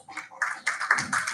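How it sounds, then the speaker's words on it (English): Scattered hand claps at a banquet, a few sharp taps in quick succession over about a second, light and fairly close, with no voices. "Please, a big round of applause."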